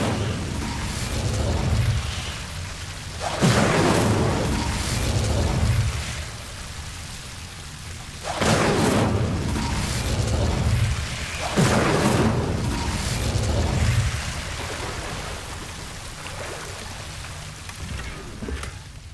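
Incendio fire spell burning Devil's Snare in Hogwarts Legacy, several loud whooshing bursts of flame at intervals, each followed by a crackling roar that fades, close and alone.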